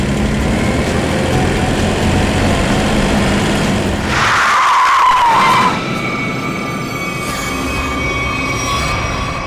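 A car skids to a stop in a near collision: a sharp tyre screech rises for a couple of seconds out of steady road noise, then fades back to a constant hum.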